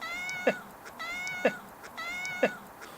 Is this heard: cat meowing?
yes